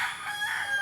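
A rooster crows once among hens, loud and close, a drawn-out cock-a-doodle-doo with no other sounds around it.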